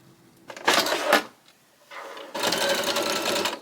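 A sewing machine stitches a sleeve casing in two close bursts, a short run followed by a longer steady whir, with a quiet pause between them.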